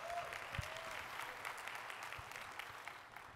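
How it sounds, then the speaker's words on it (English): Warm audience applause after a talk at the SXSW conference, a full room clapping steadily and fairly loudly, tapering slightly toward the end. "I should get that much applause for uploading something."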